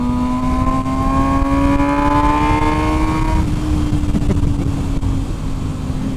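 A 208-horsepower MV Agusta naked motorcycle accelerates in highway traffic, its engine note climbing steadily and loudly before levelling off into a constant roar of engine and wind.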